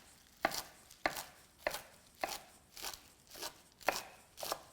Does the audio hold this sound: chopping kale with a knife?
yes